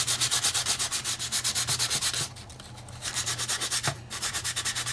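Hand sanding on a model ship's secondary hull, with steady rhythmic back-and-forth rasping strokes that pause briefly and then resume, loud and close with no talk.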